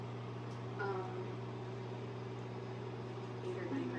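A microwave oven hums steadily while cooking vegetables in a home kitchen, a constant low drone with faint fan noise, alone with no talk over it.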